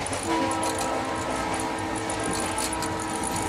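Train ride from inside a carriage with the windows open, a steady loud rumble and rush of rail noise with faint tonal squeals throughout.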